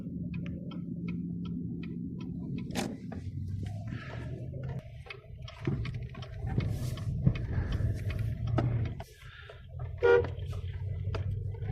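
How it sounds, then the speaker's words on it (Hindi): A car horn toots a few short times over steady street traffic and rumbling engines, fairly close by, in a narrow street in Saudi Arabia. "ऐसे वाले गलियों में जब आते हो ना तो जरूर हॉर्न मारा करें"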